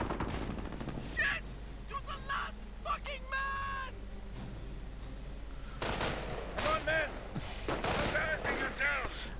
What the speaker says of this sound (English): Finding fragmentation grenades to be detrimental to his health.